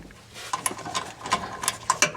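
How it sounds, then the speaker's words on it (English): A ratchet tightens the top strut spacer bolts on a 2022 Toyota Tundra during a front lift install, giving short bursts of crisp close clicks in a brief uneven rhythm. "we're gonna go ahead and tighten up these 4 bolts on the top"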